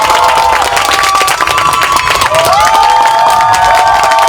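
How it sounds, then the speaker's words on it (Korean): Loud, continuous applause and cheering from an audience at a bookshop anniversary event, welcoming the host; dense clapping with shouts and crowd voices mixed in, sustained throughout. "힘차고 뜨거운 박수로 맞이해주시면 고맙겠습니다."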